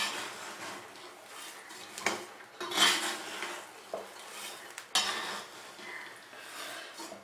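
Metal utensil scraping and clattering against a pan while roasting peanuts are stirred, irregular close scrapes and knocks with soft rattling of the nuts, no talk.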